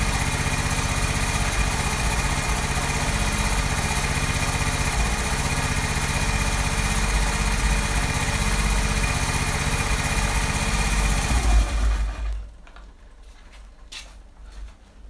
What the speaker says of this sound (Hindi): ये तो फ्रेंड्स बगैर मैं रेस दिए हुए बाइक को स्टार्ट किया था